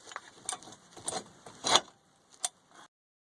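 Bolts are threaded by hand into a car's brake caliper bracket, producing faint, close metallic clicks and scrapes in sparse, irregular bursts, with one louder clink before the sound falls quiet.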